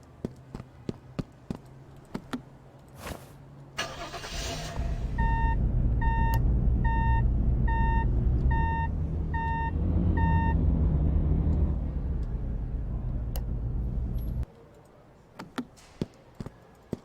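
A video game fire truck's engine rumbles loudly while a regular series of high reversing beeps repeats for several seconds, surrounded by scattered sharp taps before and after.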